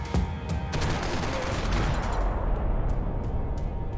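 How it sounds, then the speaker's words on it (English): In the video game Max Payne 3, a burst of rapid gunfire opens, followed by scattered distant shots popping over a rumbling, noisy background. "Gunfire over Hoboken."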